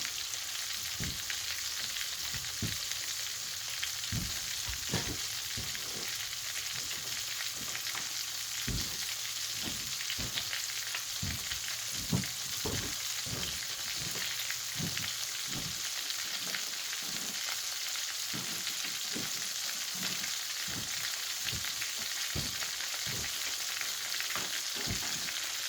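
Steady, loud sizzling of chicken frying in hot oil, with constant crackling pops scattered throughout and no talking.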